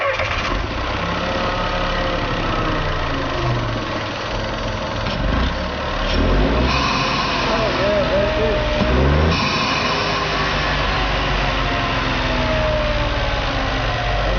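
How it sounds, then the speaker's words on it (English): A Smart car's small engine cranks and catches, then settles into a rough, steady idle that runs loud and close for the rest of the clip, with a couple of surges. "I'm gonna go ahead and start the engine."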